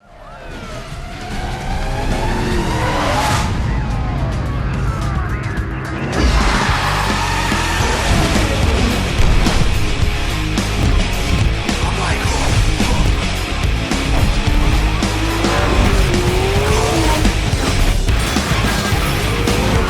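Racing cars in Need for Speed Most Wanted (2005) roar loudly, with tires squealing and screeching through skids, plus sharp crash-like hits over a continuous engine drone.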